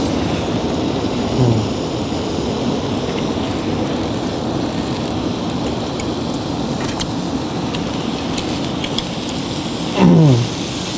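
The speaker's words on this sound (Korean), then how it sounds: "지하철 소리, 지하철 소리 되게 시끄럽지." Loud subway train noise fills the whole stretch with a steady roar and rumble, and short squealing tones rise out of it near the start and again near the end.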